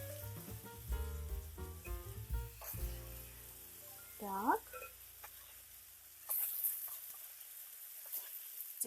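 Ingredients for paella fry quietly in a pan, giving a soft sizzle with light stirring and clinking, while a voice speaks a brief word.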